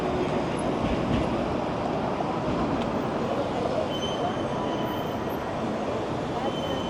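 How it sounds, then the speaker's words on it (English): A Carlton streetcar rumbles past on a Toronto street at night, a steady close roar of steel wheels and traffic with faint high squeals, a voice briefly heard. "Carlton streetcar."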